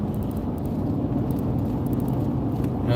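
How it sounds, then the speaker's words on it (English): Steady low engine drone of a car coasting downhill with cruise control set at 50 while the transmission downshifts and holds back, a continuous rumble with road noise and no talking. "I'll set it at 50 for a minute and see what it does going down this hill. It's going to downshift."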